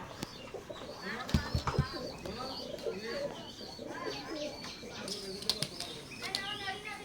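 Oman blood line teddy pigeons coo softly in a loft, with scattered chirps and occasional wing flaps, moderately near, while someone talks over them at times.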